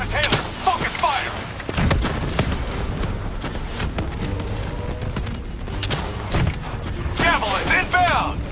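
Rapid gunfire bursts and heavy booms from a Call of Duty Black Ops 3 firefight, loud and continuous across the clip, with combat voices and radio-style callouts mixed in throughout.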